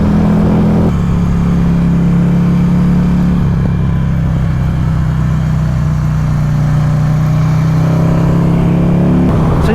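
Steady, loud engine drone from a Buell XB9 motorcycle on a test ride, holding a low pitch with a brief shift in tone midway, close and continuous, with wind noise and no talking.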